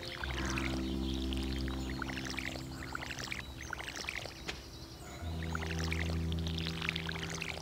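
Watering crops with a watering can in the farming game Stardew Valley, a steady trickling pour that runs for several seconds, pauses briefly, then resumes over a constant low music drone.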